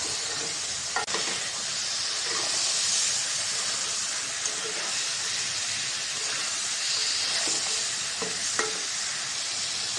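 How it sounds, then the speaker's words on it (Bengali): Fish sautéing in a pan gives off a continuous hissing sizzle for the whole stretch, broken by several sharp spatula scrapes and taps as it is stirred and turned. "মাছটা দিয়ে দিলাম, মাছটাও কষাই নেব।"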